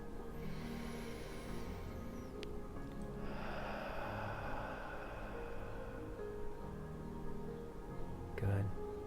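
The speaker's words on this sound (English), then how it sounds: "Let's take another deep breath." A slow, deep breath is drawn in and let out during a guided stress-relief tapping session, soft and close, with quiet room tone before and after.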